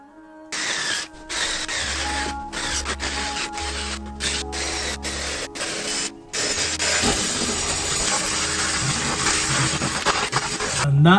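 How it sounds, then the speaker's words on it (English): Spray gun or aerosol repainting the rusty front subframe of a Mitsubishi Evo 8 after cleaning, heard close as short hissing bursts with brief gaps, then a longer unbroken spray that runs to the end. "We're going to clean it out and respray it."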